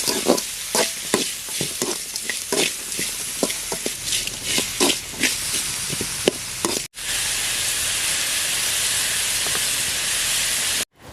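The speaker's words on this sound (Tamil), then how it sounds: "வெங்காயம்லாம் நல்லா வதங்கிடுச்சுங்க" Onions with a little rock salt sauteing in a pan for Tamil fish curry (meen kulambu), crackling sizzle with regular stirring scrapes, then a smooth continuous hiss after a short cut.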